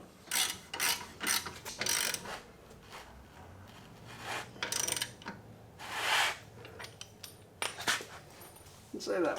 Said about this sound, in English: we're just going to tighten up this lower shock bolt